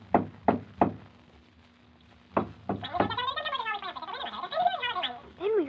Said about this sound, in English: he jumped onto the door knocker and swung back and forth on it